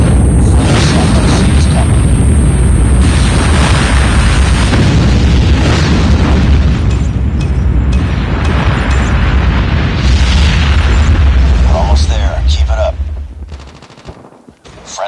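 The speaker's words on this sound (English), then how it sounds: "Warning, friendly nuke has been launched." Loud, dense game combat in Call of Duty Mobile: continuous rapid gunfire and booming blasts from a nuke explosion roar without letup, then fade out near the end.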